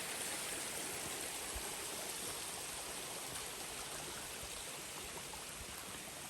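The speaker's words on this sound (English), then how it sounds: "We have a bunch of these small little stream crossings." A small stream crossing a mountain trail, rushing steadily with a continuous broadband wash of water, close and even throughout, with no talking.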